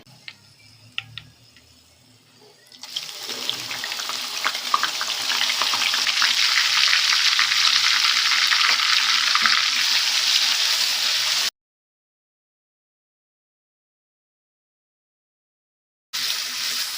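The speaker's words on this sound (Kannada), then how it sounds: "ಮಿಕ್ಸರ್ ಮಾಡಿದ ಆನಿಯನ್ ಹಾಕೊಳ್ತಾ ಇದ್ದೀನಿ," Blended onion paste dropped into hot oil in a pan, a few faint clicks and then a loud, steady close sizzle that runs on evenly before cutting to silence and returning briefly.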